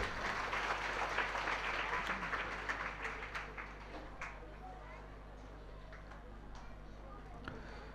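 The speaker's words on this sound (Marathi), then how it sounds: "आपण सर्वांनी टाळी वाजवून त्यांचं स्वागत करायचं" An audience at a devotional katha gathering applauds to welcome a guest. A loud burst of clapping gradually thins and fades to a quiet room, with a voice speaking as it dies down.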